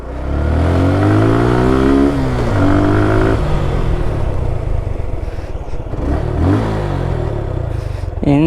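A used Suzuki Gixxer Monotone motorcycle engine revs loudly up close, the pitch climbing and falling through several throttle blips before settling into a rough, steady idle.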